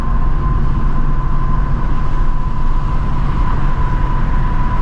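A 2024 Mustang GT running on E85 fills the cabin with a loud, steady, dense drone that holds an even level throughout, with no other voices present.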